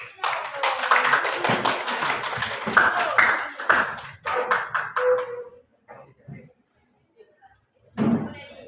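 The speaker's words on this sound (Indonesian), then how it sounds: "Jadi kita berikan aplaus bersama-sama." A classroom group applauds together, a burst of brisk clapping for several seconds that tapers into scattered claps, with a teacher's voice talking over it and a brief spoken phrase afterward.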